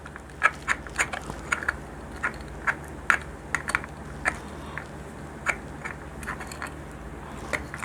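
Screws are started by hand into the lid of a winch receiver box, giving a series of small, quiet ticks and clicks at an uneven pace, close to the microphone.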